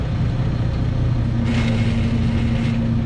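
A truck with a manual transmission drones loudly and close, its engine humming steadily while a brief harsh grinding rasp from a gear change rises midway and fades.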